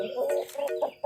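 A Thai fighting rooster clucks in several short, close, nasal bursts in quick succession.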